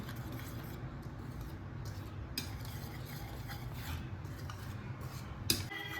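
Chicken pieces being mixed by hand with chili powder and black pepper in a bowl, giving a steady close rubbing and scraping texture with a few small clinks, and no talking.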